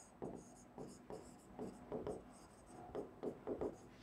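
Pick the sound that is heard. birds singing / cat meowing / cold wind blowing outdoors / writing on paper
writing on paper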